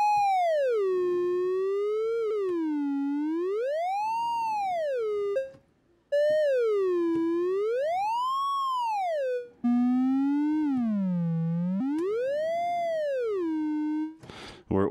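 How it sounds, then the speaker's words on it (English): Orbitones synthesizer module oscillating on a single particle channel, a pure electronic tone whose pitch sweeps slowly up and down like a warbling siren, steady and loud with two brief dropouts. "We're still only going to hear the oscillation from one of these channels"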